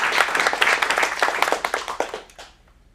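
An audience applauds an acting student at a teen script showcase at an acting studio in Phoenix, a burst of dense clapping that thins into scattered claps and fades out by the end.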